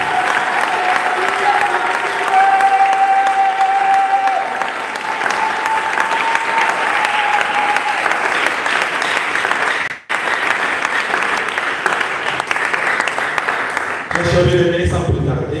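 An audience in a church applauds and cheers in loud, sustained clapping that fills the space for about fifteen seconds, with voices mixed in.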